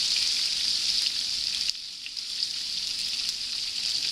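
Garlic and thyme sizzle steadily in hot butter in a steak pan, a loud, continuous hiss with a brief dip partway through.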